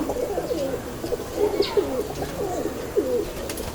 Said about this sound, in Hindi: ये भी फिरोजपुरी कबूतर है जी